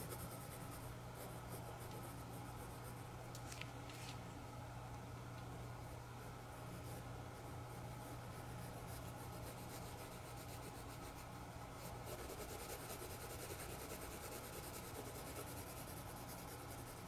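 An HB graphite pencil works in small circles over darker 9B shading on paper, making a soft, steady, continuous scratchy rubbing that runs faint and unbroken throughout, with no voices.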